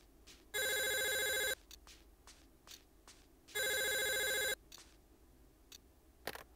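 A telephone rings in the horror video game Clock Tower, two long electronic bursts of bright trilling with a quiet pause between them, over faint background clicks and steps.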